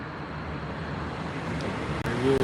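A Berlin tram approaching through Friedrichshain, heard from above as a steady low rumble mixed with city traffic noise, growing slightly louder toward the end.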